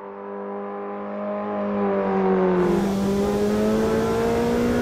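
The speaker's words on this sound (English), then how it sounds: "this particular car has a great throatiness" Puma race car engine in Automobilista 2 at Donington Park, a throaty, steady harmonic drone that climbs in pitch and grows louder as it revs up, with no talk over it.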